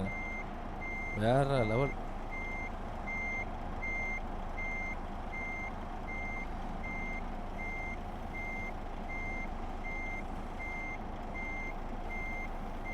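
DAF truck in Euro Truck Simulator 2 reversing into a parking spot: a steady reverse-alarm beep repeats evenly through the whole clip over a low engine idle, with a brief spoken voice near the start.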